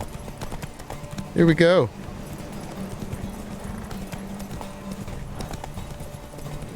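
Roach, a horse in The Witcher 3, clip-clopping its hooves in a steady rhythm under game ambience, with a brief spoken line and a neigh-like burst partway through.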